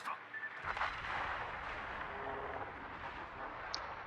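In the World of Warships game, armor-piercing shells strike the Japanese cruiser Aoba, making a sustained, rumbling barrage of impacts with crackling bursts, moderately loud and continuous across the whole stretch.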